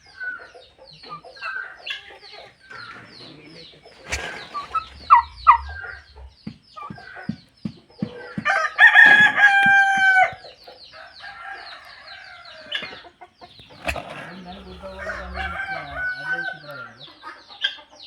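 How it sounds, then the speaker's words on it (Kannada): Chickens and turkeys at a rural village home, clucking, gobbling and crowing in irregular overlapping bursts, some loud and close, with faint talk and other background noise. "ನಮ್ಮ ಅಣ್ಣ ತಮ್ಮಗಳದೇ 2 ಕೋಳಿ ಇದ್ವು, ಟರ್ಕಿ ಕೋಳಿ ತಂದಿದ್ರು."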